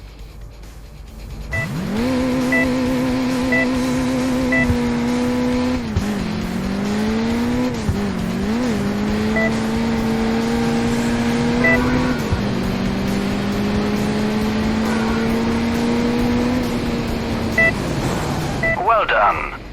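Car engine in the racing game Crash Time II, a steady droning hum that rises in pitch as it speeds up, dips at shifts, and cuts off near the end, loud and continuous with no talking.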